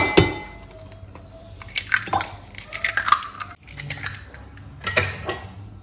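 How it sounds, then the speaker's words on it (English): An egg being whisked with milk in a bowl for mini pancake batter gives irregular, bright clinks and taps of the whisk against the bowl, fairly close and with no talking. "whisk the egg"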